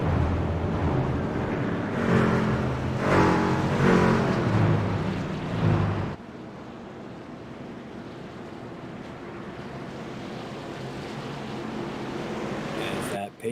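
Racing pickup trucks from the Triple M Pulling Truck Series circle Phoenix Raceway under caution behind a pace truck, a steady broad engine drone with a louder swelling rush early on, then a flatter sustained roar, under commentary.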